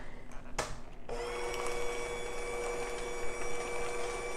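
An electric mixer starts up and runs steadily at close range, blending the wet ingredients for a vegan banana bread in a bowl. It gives a continuous, even motor whir after a brief knock.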